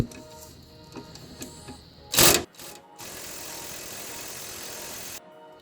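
A ratcheting wrench clicks a few times on an 18 mm motor mount bolt of a Porsche 996 Turbo, followed by a loud burst and a sustained hiss of an air tool running close by.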